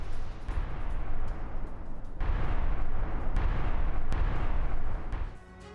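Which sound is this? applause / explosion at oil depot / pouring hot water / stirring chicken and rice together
explosion at oil depot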